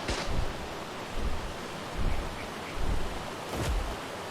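A waterfall in the video game ARK: Survival Evolved gives off a steady rushing roar of falling water, with the hiss swelling softly every second or so and no voices.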